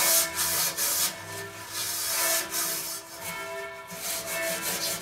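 A stiff brush or pad scrubs a heavily encrusted grill grate with Greenrock cleaner, producing steady, close rubbing strokes that come in repeated back-and-forth waves with no voices.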